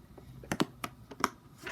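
Among Us shaped silicone pop-it fidget toy pressed on its loud side, a handful of sharp, close popping clicks spaced irregularly over a quiet background.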